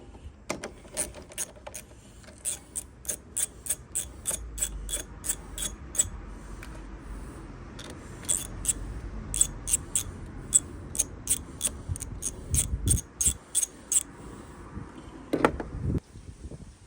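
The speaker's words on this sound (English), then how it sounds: "The easiest way is to use a socket" A socket wrench ratchets rapidly as it loosens 10mm bolts on a lawn mower carburettor. The pawl clicks come in quick bursts with short pauses between them, close up and clear, with light metallic handling noises.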